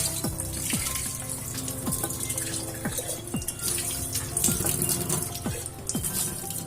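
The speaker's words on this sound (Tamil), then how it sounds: "கிளாஸ் ஜாரை நல்லா வாஷ் பண்ணிக்கணுங்க." A glass jar is washed under a running kitchen tap while preparing mango pickle: a steady, close rush of water runs throughout, with small irregular splashes and faint knocks of the glass under the stream.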